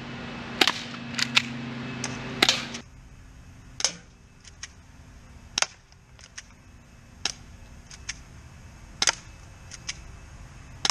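A FIREPOWER .45 airsoft pistol fires about fifteen sharp, snappy shots in irregular quick succession. The first shots come over a low hum, and later shots stand out against near silence, with no talking.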